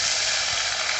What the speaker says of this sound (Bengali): তেলটা এখানে আমাদের গরম হয়ে গেছে, এরপর আমি এই মাছগুলো দিয়ে দেব।